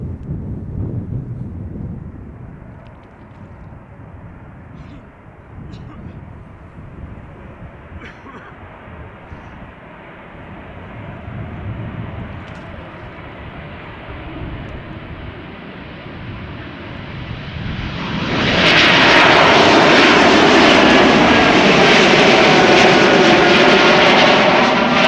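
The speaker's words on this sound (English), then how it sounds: "And this is KLM flight 913 outbound to Aberdeen. E2 Embraer." KLM Embraer E2 jet on its takeoff run at Schiphol Airport, engines building from a distant low rumble to a loud broadband roar as the aircraft passes close, with some wind noise on the microphone.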